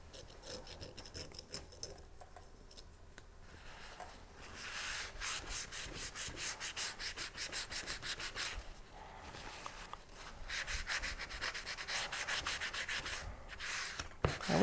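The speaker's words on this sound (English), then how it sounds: "And I'll sand a little bit too." Faux Bone is sanded by hand with steady back-and-forth rubbing strokes, quiet and close, in rhythmic bursts with brief pauses between passes.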